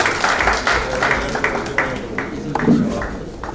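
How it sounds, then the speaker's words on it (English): An audience at a business conference claps after a presentation, a moderate burst of applause with distinct individual claps that thins and tapers over a few seconds. "The applause has been little low."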